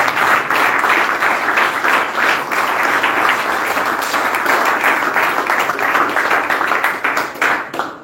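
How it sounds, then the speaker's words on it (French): A church congregation claps in steady, loud applause, with a dense run of many hands clapping for several seconds before it tapers off at the end. "Applaudissons pour le Seigneur."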